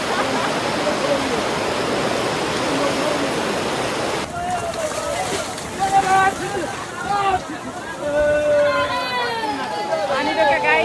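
Heavy rain pours down in Itahari as a dense loud hiss for the first few seconds, then continues under chattering voices and bird-like chirps.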